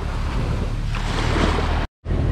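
Ocean surf breaking onto a Dominican Republic beach, a steady loud wash of waves mixed with wind buffeting the microphone, cutting out briefly near the end before resuming.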